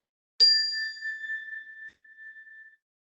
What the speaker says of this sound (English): you'll hear the sound of the chime